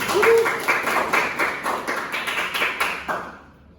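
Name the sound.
classroom applause for a student group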